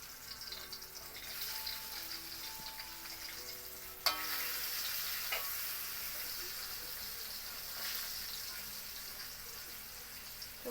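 Dried fish (tuyo) frying in a hot pan, a steady close sizzle with occasional stirring scrapes and a sharp clatter partway through, continuing alone without talk.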